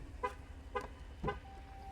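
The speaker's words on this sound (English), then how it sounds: "Hold your honking." A car horn gives three short, evenly spaced toots, faint and somewhat distant, over a low steady background hum.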